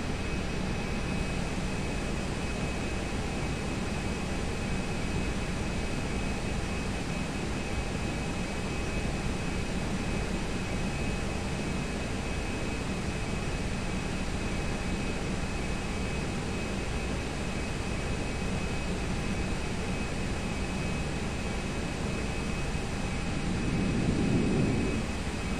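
An EasyJet airliner's jet engines hold takeoff thrust in the Prepar3D flight simulator, making a steady, loud, broadband roar with a faint whine that continues unbroken, briefly swelling near the end.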